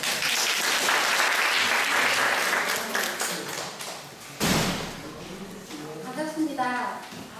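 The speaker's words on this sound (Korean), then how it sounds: "박수 한번 모시겠습니다" A seated audience at a home-care training lecture claps for a guest instructor, a dense burst of applause that fades, then a thump and a voice speaking as it dies away.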